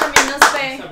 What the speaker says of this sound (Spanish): Ese aplauso no sirve para nada